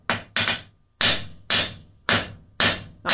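Hammer blows on hot steel as a 3-inch taper is drawn on a forged hook with a spade end, six loud, sharp strikes in a steady rhythm, each ringing briefly before the next.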